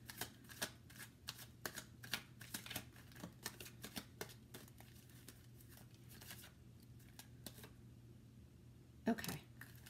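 Tarot cards are shuffled and handled quietly at close range: a series of soft, irregular flicks and riffles, then a sharper snap near the end.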